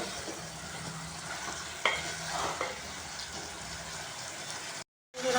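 Cumin powder and spices sautéed in a pan for a light ridge gourd, potato and poppy seed curry, giving a steady close sizzle with scraping stir strokes, a sharper clatter near two seconds, then a brief dropout before the frying resumes.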